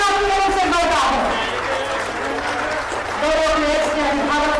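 Applause from an audience at an award ceremony in Jharkhand honouring hockey players, a steady wash of clapping with crowd noise, heard under a voice speaking over a loudspeaker.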